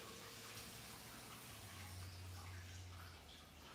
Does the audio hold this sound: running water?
yes